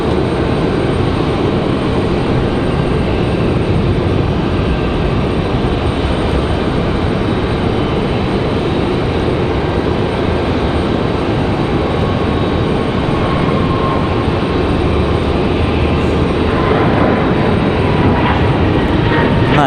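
JetBlue jet airliner departing a runway at Raleigh-Durham airport, a continuous, loud engine rumble and roar that holds steady throughout, with no voices.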